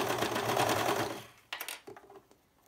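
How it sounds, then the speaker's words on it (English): A serger runs a steady, continuous stitching whir while seaming a triangle gusset on leggings with a 3/8 inch seam allowance, then stops and leaves a few short mechanical clicks and taps. "So I've got my leggings underneath my serger here."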